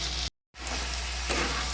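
Spices for thecha chicken sauté in a pan with a loud, steady sizzle and crackle close by, broken once by a short moment of silence before the frying noise resumes.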